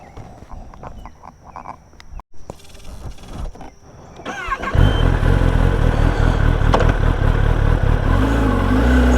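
A brand-new 2023 Kawasaki ZX10R sport bike with few miles: quiet ticks and mechanical rattles come first, then a loud, sustained engine and wind roar sets in about halfway and continues to the end.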